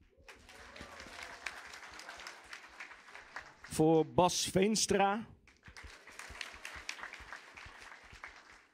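Audience applause in a church during an Easter service, a soft patter of clapping that runs through most of the stretch, interrupted midway by a loud spoken announcement over it.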